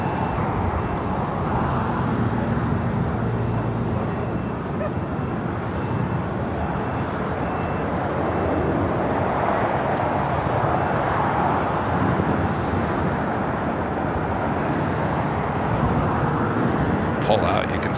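Continuous broad jet roar from a Delta Boeing 767-300ER airliner at Los Angeles airport, steady and fairly loud across the whole span with faint talk mixed in.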